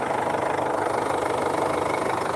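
A Nissan X-Trail turbo diesel engine idles steadily, a continuous close rumble with a faint knocking texture and no talking.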